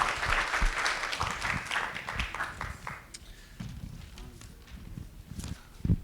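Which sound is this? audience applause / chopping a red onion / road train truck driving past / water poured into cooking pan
audience applause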